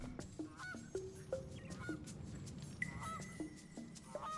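Honking bird creatures in the Rayman 3 video game call out in a string of nasal, goose-like honks, several overlapping at irregular intervals over a soft forest ambience.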